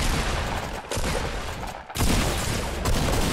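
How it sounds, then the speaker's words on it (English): Loud, continuous gunfire and blasts from the video game Fortnite Battle Royale fill the moment, with sharp shots broken by a brief lull midway before the barrage resumes at full strength. "We're getting sniped from the west, too."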